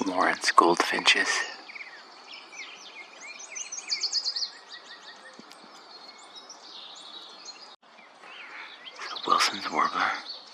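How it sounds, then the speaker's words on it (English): Lawrence's goldfinches give tinkling, high chirps in loose clusters at a San Diego wildlife refuge around sunset. A faint insect hum runs underneath, and a voice briefly opens and closes the stretch. "Lawrence goldfinches."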